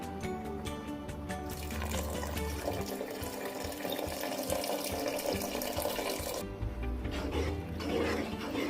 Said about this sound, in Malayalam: നമ്മുടെ കോൺഫ്ലവർ കലക്കി വെച്ചിരിക്കുന്ന വെള്ളം നമ്മൾ ഒഴിച്ചു കൊടുക്കാൻ പോവുകയാണ്